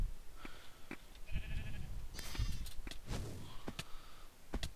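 Several short sheep bleats ring out from a video game amid thumps and footstep-like knocks, repeating irregularly at moderate loudness with no talking over them.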